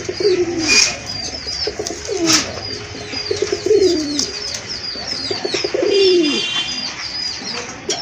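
A male pigeon coos repeatedly in a loft of fancy breed pigeons, deep rolling calls recurring in a steady rhythm, with small birds chirping in the background.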